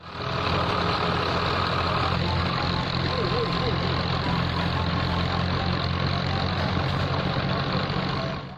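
Engine rumble from a toy sand truck, a steady loud idling drone with a mechanical hum that runs unbroken throughout, with speech mixed in.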